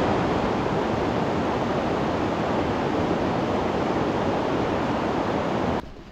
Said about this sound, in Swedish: Ja, det är en fors här igen.